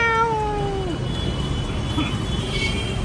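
A cat lets out a single drawn-out, falling meow at the start, close by, then stops while steady road traffic rumbles on in the background.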